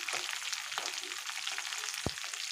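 Ripe red chillies fry in a pan of oil with cumin, mustard seeds and fenugreek, making a continuous crackling sizzle with tiny pops and one low knock. No voices.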